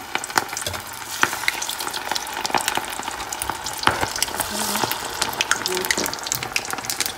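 Egg-free beef meatballs sizzle steadily in a hot pan, a continuous crackling fry broken by sharp pops and the occasional scrape of stirring, close and fairly loud with no talking.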